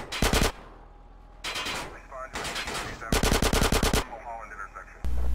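Bursts of automatic gunfire from the video game GTA San Andreas (Definitive Edition), with rapid machine-gun volleys and single shots separated by brief gaps, loud and close.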